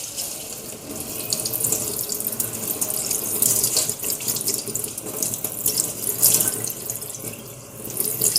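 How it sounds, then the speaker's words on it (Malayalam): Water pours steadily from a tap over thin poha in a strainer, a continuous close rushing splash lasting several seconds with no talk. "നല്ല വെള്ളം എടുത്ത് ഇതിൻ്റെ പുറത്ത് ഒഴിച്ചു കൊടുക്കണം."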